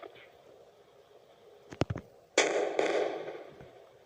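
A car blowing up in a simple offline mobile game, with a couple of sharp cracks and then a burst of explosion noise that trails off, faint and small, over a low hum.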